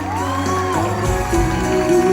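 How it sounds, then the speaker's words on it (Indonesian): Hall audience at the Runduk Tadau Dazanak pageant in Kota Kinabalu cheers and whoops loudly in a brief, dense burst of voices with tonal music underneath. "kita bagi tepukan dan sorakan yang paling gemuruh"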